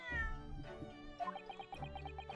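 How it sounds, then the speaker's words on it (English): Cat meowing from The Great Ace Attorney, a voiced cat character in the game, with a rapid run of short repeated meows over a soft musical background. "You heard the meows."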